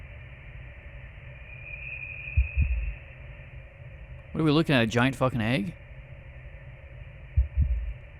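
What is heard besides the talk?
heartbeat sound from the video game Voyager-19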